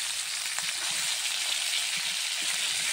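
Chang fish frying in oil in a home kitchen, a steady, dense sizzle that holds evenly throughout with faint spatters and no voices.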